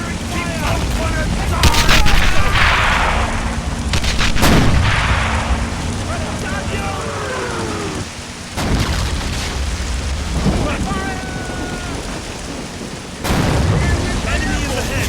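Staged First World War battle with loud gunfire and booming explosions, several heavy blasts spaced through the scene over dense crackling shots and rushing noise, with shouted voices mixed in.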